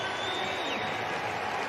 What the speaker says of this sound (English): The crowd knows what's happening. They are cheering her on to get this Olympic standard.